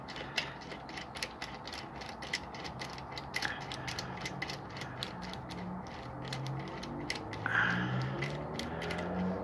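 Ratchet wrench snugging down an oiled cylinder head bolt on a 2002 Nissan Altima 2.5L engine, a steady run of fast, close mechanical clicks over a low background hum.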